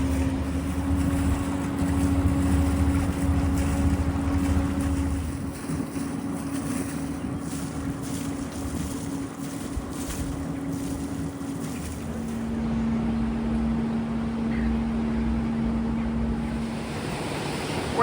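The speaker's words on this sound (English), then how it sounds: "We just came out of the floodgate into this fun river current." A barge on a river current in Burgundy, France, just out of a floodgate, gives a steady engine hum under rushing water and wind noise that continue throughout.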